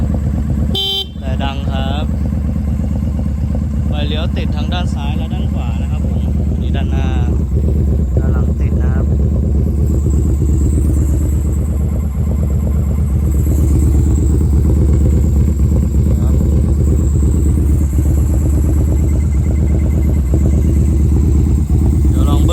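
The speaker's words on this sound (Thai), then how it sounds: "ลั่นจัดนะฮะ เครื่องยนต์ดีปกติครับผม" A 2018 Yamaha Bolt-R ABS motorcycle engine idles steadily with a low rumble throughout, loud and close, while a person talks over it.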